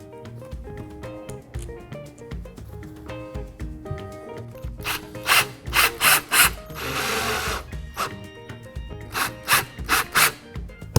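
Studs being screwed into the rubber sole of a wading boot with a power driver, heard as short, close whirring and grinding bursts in an irregular rhythm, some quick in succession, with a longer buzzing run in the middle.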